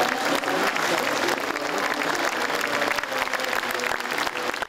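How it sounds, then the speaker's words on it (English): A large audience claps steadily and densely throughout, a full round of applause opening the 2012 Overseas Volunteer Training Workshop, fairly distant and even in level. "After a round of applause, the 2012 Overseas Volunteer Training Workshop officially begins."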